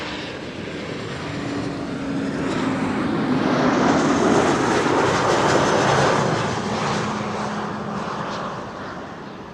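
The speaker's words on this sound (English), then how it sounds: "BA City Flyer Embraer 190 arriving from London City" BA CityFlyer Embraer 190 jet airliner arriving at Amsterdam Schiphol from London City, a broad engine roar that swells as it draws near and passes, then slowly fades, with no one speaking.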